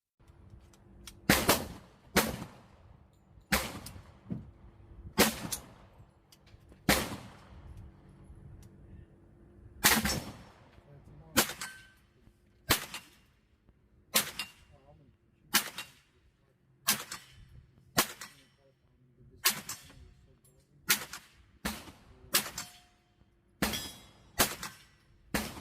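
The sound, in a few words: Bear Creek Arsenal BC-9 firing 19 rounds of 9mm ammunition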